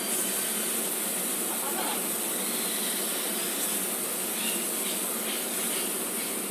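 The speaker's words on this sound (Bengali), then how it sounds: "এবার এটা হালকা একটু নেড়ে চেড়ে আমি দিয়ে দিচ্ছি এর ভিতরে জল" Water poured into a hot pan of frying katla fish pieces with black cumin gives a steady, loud sizzling hiss that holds evenly throughout, with no talking.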